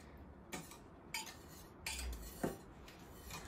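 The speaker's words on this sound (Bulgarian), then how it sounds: "добавихме нашата сметанова смес към млякото и сега разбъркваме" A utensil scrapes and clinks against a pot while cream mixture is stirred into milk for panna cotta, several soft separate knocks and scrapes in a quiet kitchen, no talking.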